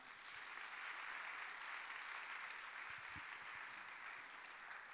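A church youth-service congregation applauds to welcome a visiting preacher, a theology professor. The clapping is steady and fairly faint, lasting the whole stretch without a break.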